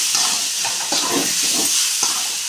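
A spatula stirs a potato fry in a pan, scraping and turning over a steady close sizzle, with several distinct stirring strokes across a couple of seconds.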